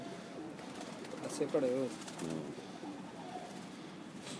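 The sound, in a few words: pigeons cooing on a rooftop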